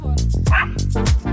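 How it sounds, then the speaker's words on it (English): A Pomeranian barks sharply and close up, several quick high yapping barks in rapid succession with no pause between them. "you'll be able to control the barking well"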